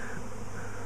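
A swarm of bees in an apple tree gives off a steady, dense buzzing drone that holds evenly throughout, with no voices over it.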